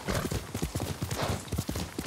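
Horse hooves clip-clop in a steady, brisk rhythm as a horse is ridden in the video game Ghost of Tsushima; the close, regular hoofbeats continue throughout without pause.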